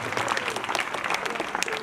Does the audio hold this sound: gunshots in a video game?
no